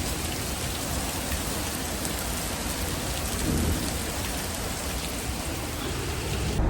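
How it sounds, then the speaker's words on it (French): Steady rain pours down outdoors, a dense unbroken hiss lasting the whole stretch with a slight swell midway and no voices over it. "Et il y a même la pluie."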